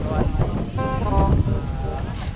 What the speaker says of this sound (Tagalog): Salungat yung hangin.